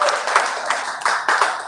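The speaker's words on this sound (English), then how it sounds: "Can we give them a good round of applause?" A small audience at a book event gives scattered, uneven clapping, with individual claps standing out close by over a thin background of hands, brief and moderately loud.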